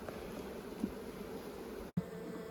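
A soft, continuous drone of honey bees around a Buckfast queen in the hive, faint and steady, broken by a brief dropout near the end.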